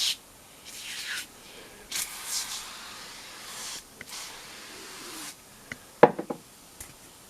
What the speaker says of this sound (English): See how it's just wiping that thick layer of dirt off.